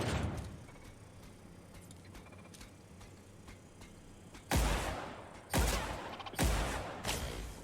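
Gunfire in the sci-fi game The Outer Worlds: light clicking early on, then three heavy, loud blasts spaced about a second apart, each with a rumbling tail.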